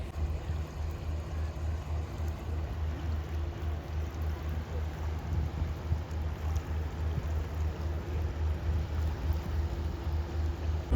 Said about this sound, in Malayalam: ഒരു ബോട്ട് വരുന്നുണ്ട്, ഞാൻ ആ ബോട്ടിൻ്റെ വീഡിയോ കാണിക്കാം